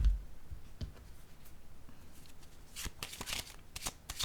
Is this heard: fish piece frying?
no